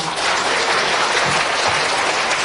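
Church congregation applauding together in a sustained, steady burst of clapping that fills the hall, loud and even throughout with no voices over it.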